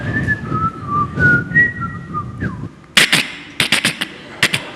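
A man whistles an imitation of a Thai bird's song, a string of short sliding melodic notes, close and clear, followed by several sharp clicks or claps toward the end.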